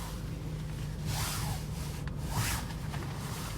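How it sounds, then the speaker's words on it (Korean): A faint rubbery rubbing squeak sounds twice, in two drawn-out grinding bursts, over a low steady hum, as a cold car's steering wheel turns, likely from a shock absorber mount. "핸들을 돌릴 때 냉간에서랑 이렇게 고무 씹히는 소리가 난다고."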